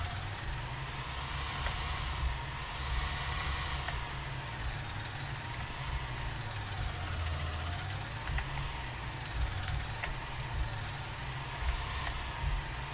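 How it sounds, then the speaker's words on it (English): A tractor engine in Farming Simulator 19 runs steadily throughout, a low, continuous rumbling drone with a faint knock, close and even in loudness, with no talking over it. "Bringing my filthy tractor into town."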